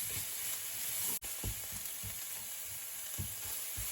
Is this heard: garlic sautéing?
yes